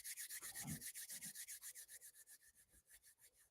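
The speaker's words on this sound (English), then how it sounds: "take the palm of your hands and rub them together" Two palms rub together in a quiet room, a soft, close, steady swishing with around twenty even back-and-forth strokes that fade slightly toward the end.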